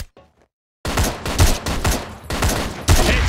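Ash-12.7 rifle firing in the shooter game CrossFire, a rapid burst of heavy, booming shots in quick succession after a short silence, loud and close.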